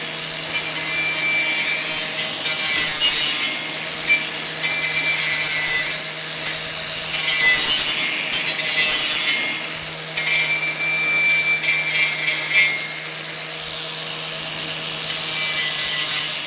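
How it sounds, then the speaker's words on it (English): A flap disc on a power tool grinds and scrapes across a Velocette motorcycle mudguard in repeated bursts, loud and close, with a steady hum underneath. "It's got a little flap disc. I'm just going to give this a clean up, mainly so I don't cut myself."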